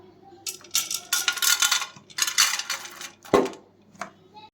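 Dry lentils (dal) poured into a pressure cooker in several bursts, giving a rattling, pattering clatter on metal between short pauses, close and fairly loud.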